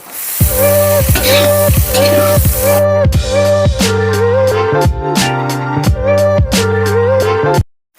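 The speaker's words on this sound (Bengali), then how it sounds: "চাউমিনটা দিয়ে ভালো করে নেড়ে চেড়ে ভেজে নেবো" Rhythmic scraping and clanking of a spatula in a wok stir-frying chow mein with vegetables over a loud sizzle, repeated strokes about every half second, then stopping abruptly.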